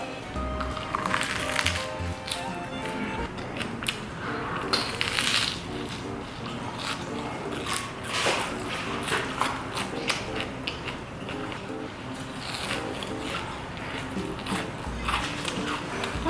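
Repeated crisp crunching and chewing sounds up close, bites breaking a brittle fried king shrimp head at a tonkatsu restaurant, with occasional soft murmurs between them.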